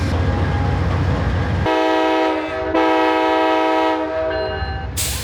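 The California Zephyr train's horn blares loud and close in long sustained tones, with rumbling rail noise beneath and a brief break before the horn resumes.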